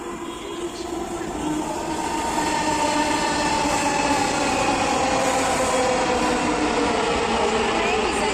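A Dhaka metro rail train rumbles through Uttara North station with a loud, sustained mechanical roar and whine that builds and holds steady, close by on the platform.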